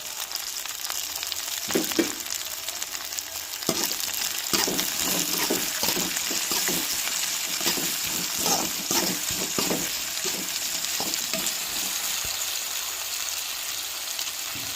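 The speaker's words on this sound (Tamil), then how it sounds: "நம்மளுக்கு வெண்டங்காய் வதங்கி வரட்டுங்க" Okra with green chilli and salt fries in a pan for okra rice, producing a constant hissing sizzle broken by repeated spatula stirs and scrapes at a close distance, with no speech.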